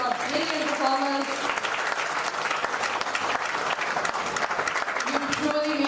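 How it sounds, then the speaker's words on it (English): Sustained, dense audience applause for dancers at a school investiture ceremony, loud and steady throughout, with music and voices mixed underneath. "Can we have a huge round of applause once again for our brilliant performers?"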